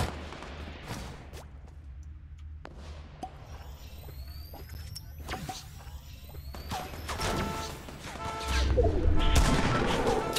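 Gunfire in a video game, with a bolt-action sniper rifle among the weapons: sharp broadband cracks scattered through the span over a low rumbling background, growing denser and louder toward the end.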